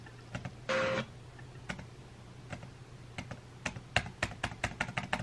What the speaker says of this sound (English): I'm literally just pressing random keys.